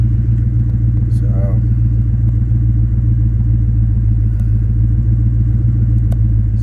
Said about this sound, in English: I'm going to gradually give it a little bit of RPM to see if we start getting some temp on the gauge.